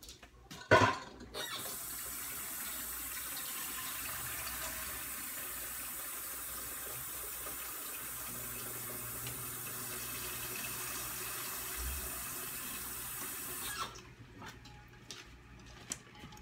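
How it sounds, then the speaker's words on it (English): A kitchen tap runs water into a pan of eggs, a steady close-up hiss of pouring water after a brief clunk at the start, continuing evenly until the flow shuts off near the end. "I'm going to fill this up with water, and I'm going to fill it up with water just above the eggs"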